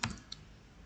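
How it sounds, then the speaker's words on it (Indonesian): Keys tapped on a computer keyboard while typing a web address: a couple of faint, quick clicks near the start, then quiet room tone. "kita ketikkan"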